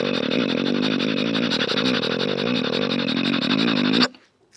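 A mimicry artist imitates a train and a motorcycle at once with his voice, a continuous buzzing engine-like drone with wavering rumbles that holds steady and loud, then cuts off abruptly near the end.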